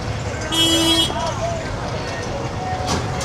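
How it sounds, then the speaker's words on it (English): Busy city traffic at a chaotic crossing in Kampala, with a short bright car horn toot rising over the rumble of engines and a background murmur of voices. "Traffic crossing through."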